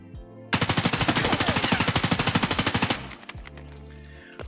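An M4 rifle in a video game firing a long fully automatic burst with no recoil control, about twenty-five rapid, evenly spaced loud shots lasting a few seconds, followed by quieter mechanical clicks and rattles.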